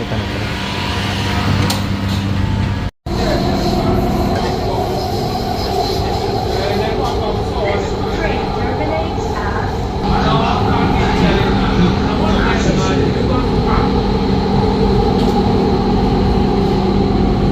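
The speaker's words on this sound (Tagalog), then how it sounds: "Dating na ang tren." A train rumbles loudly into a station, its wheels rattling and hissing continuously as it rolls close by, with a brief cut near the start.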